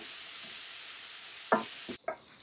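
Vegetables and green peas frying in a pan for a vegetarian Mughlai paratha filling, a steady close sizzle with a couple of sharp stirring scrapes near the end.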